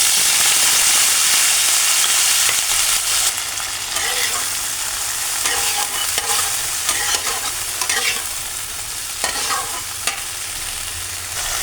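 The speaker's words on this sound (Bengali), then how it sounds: "তেলের মধ্যে একটু হলুদ দেব আর দিয়ে দেব কুল দিয়ে দিলাম" Jujubes fry in oil with dried chilli, mustard seeds and turmeric, a continuous close sizzle overlaid with repeated scraping, clattering strokes of a spatula stirring the pan, with no one speaking.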